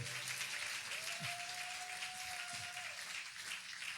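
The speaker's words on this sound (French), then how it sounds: "Tu peux applaudir le Seigneur très fort" A church congregation applauds in a sustained, even wash of clapping, with a held sung or instrumental tone rising briefly above it.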